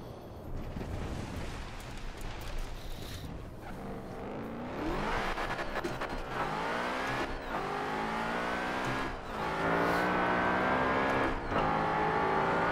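A 2018 BMW M5 engine in Forza Horizon 4 revs up through repeated gear shifts, each climb in pitch cut short by a brief drop, loud and continuous with no talking.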